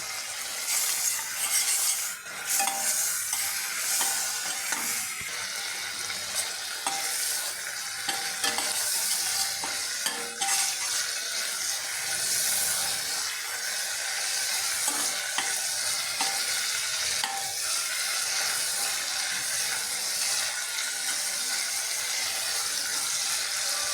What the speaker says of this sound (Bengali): বেশ ভালো মতো মশলাটা কষে এসছে